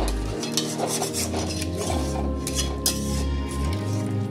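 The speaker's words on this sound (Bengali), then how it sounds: "এবার আমি জল গরম করে রেখেছি, কড়াইয়ে অল্প গরম জল দিয়ে দিচ্ছি। মশলাটাকে ভালো করে কড়াই থেকে ধুয়ে নিচ্ছি।" Hot water sloshing in a kadai (wok) while spice paste is scraped and rinsed off for mutton jhol, with clattering metal-on-metal stirring and clinks throughout, fairly close.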